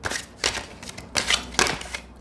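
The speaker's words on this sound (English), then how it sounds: "And then we'll cut the deck and we will shuffle." An oracle card deck cut and shuffled by hand in several separate bursts, dry papery slaps and flutters with short pauses between, close and fairly soft.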